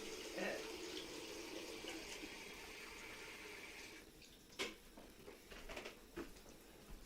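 Hot water runs steadily from a kitchen tap for several seconds during pizza-dough preparation, then shuts off, leaving a few faint clinks and drips.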